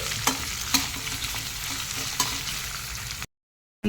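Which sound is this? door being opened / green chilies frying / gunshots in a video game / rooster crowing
green chilies frying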